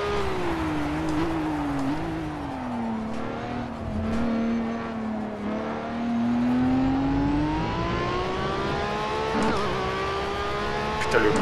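A Ferrari 812 in the racing game Project Cars VR holds a loud continuous engine drone with shifting pitch, rising and falling revs, and a gliding climb toward the end with a few faint tire and mechanical noises.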